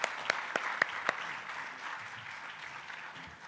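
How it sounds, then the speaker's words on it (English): Faint, distant applause from an audience welcoming the president at a formal event, with a few sharp claps standing out early before settling into a soft, steady patter. "invite His Excellency the President. A loud of applause."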